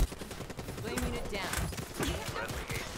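Rapid gunfire from a new weapon in a multiplayer shooter video game, several dense bursts of shots over game noise with a player talking throughout.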